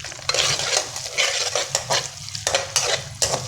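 Chana dal fries in a pan with dried fenugreek while a spoon stirs it. Close scraping strokes repeat in a steady rhythm over a continuous hissing sizzle.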